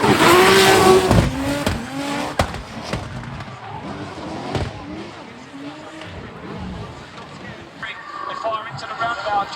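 A carbon Kevlar BMW F22 drift car runs at a drift event, its engine roaring loudly at first, then carrying on under continuous commentary with crowd and track noise around it.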